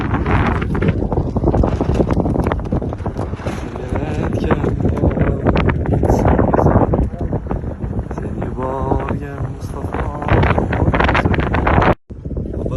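Mountain wind buffets the microphone in loud, continuous gusts, with a person talking over it throughout and a brief dropout near the end.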